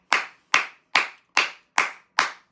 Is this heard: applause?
yes